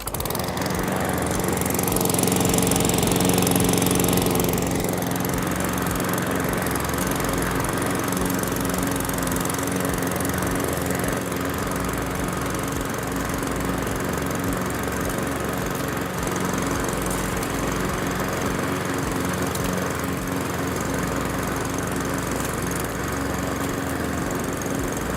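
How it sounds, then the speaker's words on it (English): A Cobra M51SPCVX 20-inch self-propelled petrol rotary lawn mower runs steadily and close by, its engine drone holding an even level throughout with a slightly louder stretch near the start, and no talking. "the Cobra VX 20-inch rotary mower, very easy to use and makes a smashing job of mowing the lawn"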